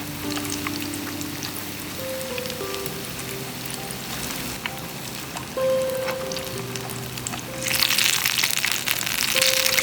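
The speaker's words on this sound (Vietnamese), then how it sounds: "Sau đó thì thả luôn vào chảo dầu đang sôi." Batter-coated chilies stuffed with minced meat fry in a small pan of hot oil, a steady crackling sizzle that swells louder and brighter near the end, with faint tonal background sounds underneath.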